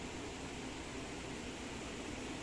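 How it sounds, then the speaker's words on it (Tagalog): Steady, even broadband whoosh of an electric fan running close by, with no other sounds over it. "I-off muna natin ang electric fan para hindi maingay."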